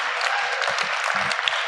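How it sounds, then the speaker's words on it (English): Audience applause at a community variety show in Waltham, a steady dense wash of clapping from a live crowd that fills the whole moment without a break. "Another round of applause for her."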